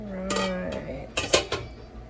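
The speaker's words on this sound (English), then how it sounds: "I'm finna throw the lid on here" A metal lid set onto a cooking pot on a home stove, a few sharp clanks and rattles of metal on metal, with a faint ringing tone early on.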